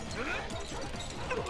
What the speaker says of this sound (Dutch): Je hoort ook echt een hondgeluid